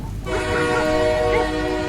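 A train horn sounds steadily over rumbling rail noise in the rain, a sustained harmonic tone starting after a brief quiet moment.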